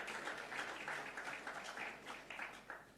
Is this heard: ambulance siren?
no